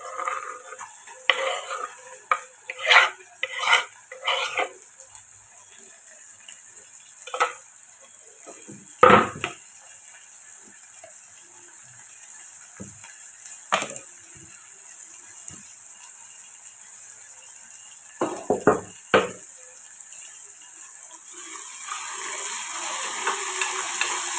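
Tomatoes fry in a pan and get stirred, with repeated scraping strokes of a utensil against the pan in irregular bursts over a soft sizzle that swells toward the end.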